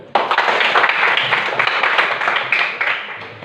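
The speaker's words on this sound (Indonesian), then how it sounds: "Berikan aplaus untuk kelompok 1" A classroom of students claps for a group that has just presented, a loud burst of mixed hand claps that breaks out suddenly and slowly fades, with a faint voice underneath.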